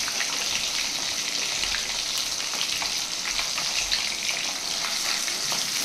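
Food sizzles lightly in hot oil in a pan, a steady close crackling fry with small pops throughout and no talk.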